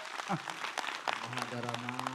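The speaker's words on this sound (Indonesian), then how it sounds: "tepuk tangan dulu yuk" A short burst of scattered clapping from a small crowd mixes with overlapping voices and a brief tone, fairly faint and indoors.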